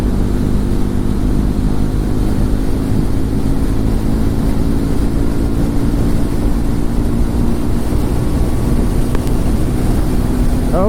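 A Triumph Tracker 400 motorcycle engine held at high revs on a test ride, heard as a steady, loud, droning roar with wind rush and no change in pitch, no voices over it.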